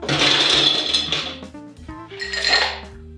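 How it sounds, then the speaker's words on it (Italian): Ice going into a mixing glass while building a Negroni with sweet red vermouth, bitter and gin: a loud rattling, clinking burst of cubes against glass, then a pause and a second clattering burst. "Ghiaccio nel nostro mixing glass"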